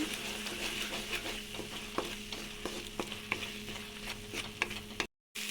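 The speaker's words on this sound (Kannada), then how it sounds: "ಒಂದು ಸ್ವಲ್ಪ ಮಿಕ್ಸ್ ಮಾಡ್ಕೊಳೋಣ." Egg curry cooked gravy-style in a frying pan, sizzling steadily while a spoon stirs with regular scraping knocks against the pan, close and continuous before a brief sudden cut.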